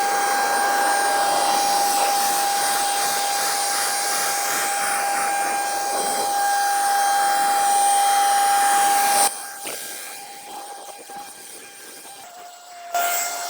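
Ryobi cordless handheld leaf blower drying a car, a loud steady whining rush of air that runs continuously, then cuts lower and fluctuates as the blower is moved or eased off.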